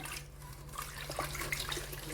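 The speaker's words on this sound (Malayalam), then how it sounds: "നമ്മൾ ഇതിനകത്തോട്ട് വെള്ളം ഒഴിച്ചിട്ട് നമ്മൾ കൈ കൊണ്ട് കലക്കുന്നതായിരിക്കും നല്ലത്" Water poured into starch paste and mixed by hand, giving a continuous close splashing, sloshing wash with small wet squelches throughout.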